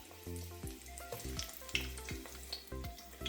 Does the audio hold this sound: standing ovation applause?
no